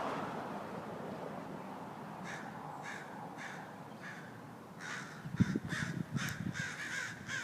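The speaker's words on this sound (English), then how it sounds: "Crows." Crows caw outdoors in a series of harsh calls that are fairly far off. They start as spaced single caws and then come in a quicker, busier cluster near the end, over a low background of wind.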